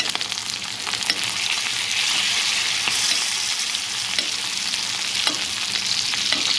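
A steak frying in a pan with butter gives a steady, close sizzle and crackle that runs the whole time, with occasional sharper pops and no talk.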